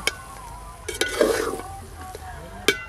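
Pulao with fried cashews and raisins being stirred in a pan, a soft scraping and faint sizzle with a few sharp utensil clinks against the metal, close and steady.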